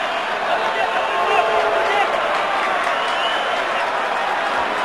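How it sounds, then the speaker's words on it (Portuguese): A football crowd boos across a Brazilian stadium during a Náutico versus Figueirense league match, a dense sustained roar with no break, under a commentator's continuous talk. "E a torcida segue vaiando"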